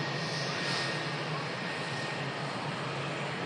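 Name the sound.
Virgin Atlantic A330 jet engines spooling up for takeoff roll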